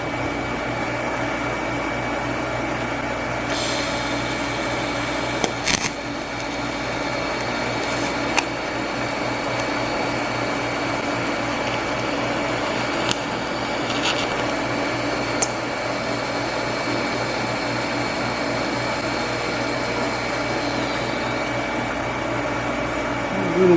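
Stick welding a pass over a repair on a cast iron handle for a Monarch 10EE lathe gives a steady, even crackling hiss that runs for most of the stretch, with a few brief sharp pops along the way and no talk.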